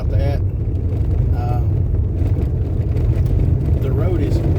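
A car with sporty, stiff suspension drives along a paved road, giving a steady, loud low rumble of road and engine noise throughout, with faint voice-like tones now and then above it.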